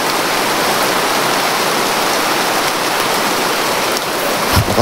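Heavy rain pours steadily and loudly outdoors, a dense unbroken roar of falling water that carries on alone with no talk.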